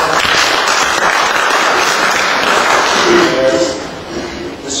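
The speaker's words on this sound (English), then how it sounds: "A big round of applause for Dr." A hall full of people applauds at an iftar dinner in Waltham Forest Town Hall, London, 2012, a dense, loud, steady wash of clapping that eases off near the end.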